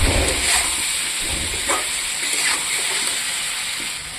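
Mixed vegetables frying in a pan with cumin powder and dried chilli powder give a steady, close hiss and sizzle with soft splattering crackles, and no one speaks.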